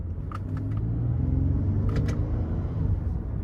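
A 2008 Lexus ES 350 with its 3.5-liter V6 held in first gear, giving a steady, fairly loud low engine drone with road rumble inside the car and no speech.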